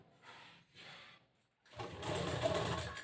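An electric sewing machine stitches the back panel of a blouse, with two short quiet bursts of stitching, a pause, and then a longer, louder continuous run of whirring needle strokes close by.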